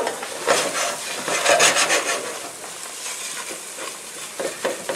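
A spoon or whisk works a thick roux around a heavy-bottomed pan for a shellfish bisque, giving a close, continuous rasping scrape with a faint sizzle underneath and irregular strokes, no voices.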